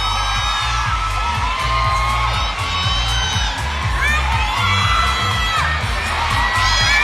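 A loud crowd at a live premiere event shouts, cheers and whoops continuously, with high excited voices rising in repeated waves over a steady roar.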